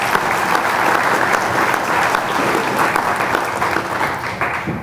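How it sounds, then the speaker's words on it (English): Sustained applause from an audience at a sponsor dinner, steady and fairly loud clapping filling the room for the whole stretch, with a faint murmur of the crowd beneath and no speech. "I think you deserve a round of applause before we even get started."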